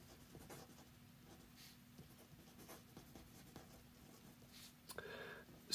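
A pencil writes the title block details onto an orthographic sketch, making a faint, continuous scratching with short strokes and brief pauses, close by and quiet, with a louder handling noise at the very end.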